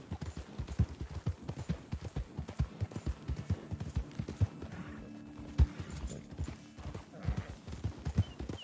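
Horse hooves clip-clopping in Red Dead Redemption 2, a steady walking rhythm of close, soft thuds with a brief snort or whinny partway through and faint ambient background.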